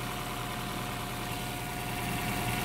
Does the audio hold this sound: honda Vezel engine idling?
yes